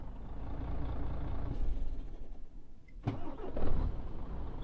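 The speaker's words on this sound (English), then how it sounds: "started the truck up." A truck engine in Euro Truck Simulator 2 cranks and catches midway through, then settles into a steady, low, close rumble.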